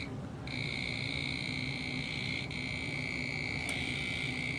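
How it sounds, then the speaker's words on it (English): An IDEAL 61-746 clamp meter's non-contact voltage alert sounds near live AC as a thin, high-pitched electronic tone that starts abruptly and holds steady throughout, faint under light background hiss, with no talking. "it will make the beeping noise at me that I'm close to AC"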